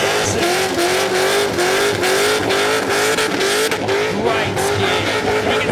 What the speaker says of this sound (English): An incredible skid out there